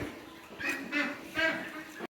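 Three short nasal quacks come from 24-day-old Peking Star 13 hybrid broiler ducklings, close by, followed by a brief dropout.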